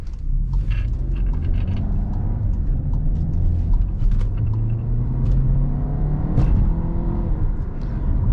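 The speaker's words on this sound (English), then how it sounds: "See how fast we can get up to speed." A 2018 Volkswagen Tiguan Comfortline with a 2-liter turbo four-cylinder accelerating after a right turn, heard from inside as a steady loud engine and road rumble whose pitch climbs gradually, with no talk.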